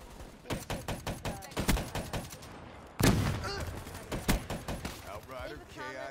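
A slow-firing gun in Black Ops 3 fires a steady series of sharp shots at spaced intervals, loud and close, with a heavier blast midway and a person talking over the gunfire.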